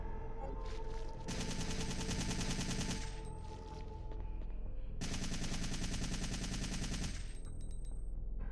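Sustained automatic gunfire in Resident Evil 3 against zombies, two long rapid bursts separated by a short pause, loud and steady over a constant low game hum.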